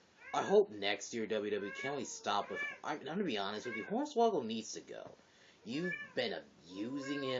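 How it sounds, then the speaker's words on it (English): A house cat meows in the background, faint and intermittent beneath a man's continuous, close talking. "That's my cat in the background."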